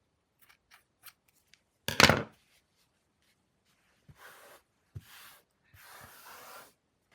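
Scissors snip yarn tassels on a crochet shawl, one loud close cut followed by a few softer trimming snips and brief rustles, with quiet pauses between them.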